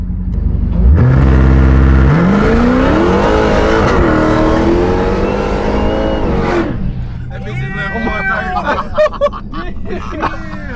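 An 800hp Chrysler Hellcat roars as it revs hard with traction control off, a loud rising engine note swelling then dropping, followed by tire spin and excited voices talking over the fading engine.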